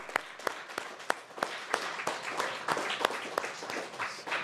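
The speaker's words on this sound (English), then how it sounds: "if you would give them a round of applause" Audience applauding panelists at the close of a conference panel on Ireland and the US: a steady bed of clapping from a mid-sized crowd with sharper individual claps standing out, sustained throughout.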